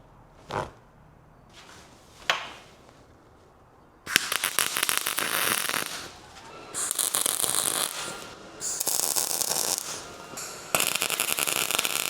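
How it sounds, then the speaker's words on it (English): Nuts and bolts being tack welded onto a home-made bed dolly give a few sharp taps and then several loud bursts of crackling, buzzing arc a few seconds each, close, with no talk. "And now we tack the nuts and bolts at the bottom with a little weld."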